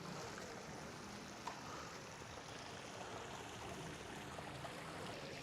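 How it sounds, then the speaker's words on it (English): A small town water feature gives a faint, steady trickle and wash of running water, continuous and fairly distant, with no talking. "There's some sort of little water feature."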